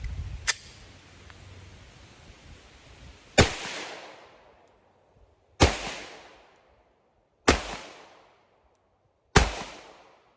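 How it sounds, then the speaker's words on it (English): Five sharp pistol shots from an FN 509 Tactical firing Underwood ammunition crack out at irregular intervals, each loud and near with a decaying ring-out, separated by quiet gaps. "I've been very looking forward to shooting this gun"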